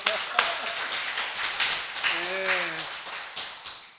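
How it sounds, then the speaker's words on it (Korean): A church congregation at Sunday worship claps together, a scattered, moderately close patter running throughout, while voices speak and call out over it. "다시 한번 박수 한번 쳐요"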